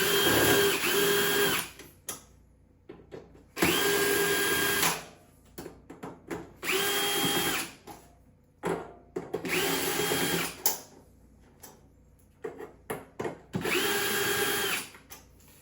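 Power drill backing screws out of the front panel of a GE Opal 2.0 nugget ice maker, several bursts of whirring at close range separated by short pauses, each a second or two long.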